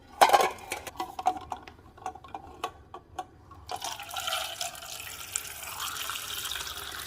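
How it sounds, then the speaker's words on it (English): Water runs from a kitchen tap into a pot of eggs, starting with a few sharp clinks and knocks before settling into a steady, close filling rush that continues to the end. "I'm gonna fill this until they cover the eggs."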